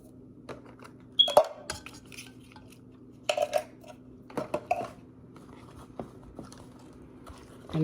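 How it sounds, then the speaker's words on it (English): A utensil stirring macaroni and cheese with evaporated milk, butter and cheese in a pan, with scattered scraping and clinking strokes in short clusters over a steady low background hum. "And I mix this all up"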